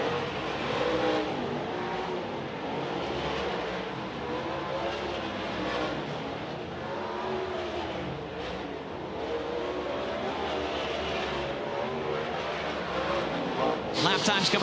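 Sprint cars roar around the dirt oval at Davenport Speedway during a High Limit Racing hot lap session. The engines make a sustained, rising and falling drone, with a commentator talking over it throughout.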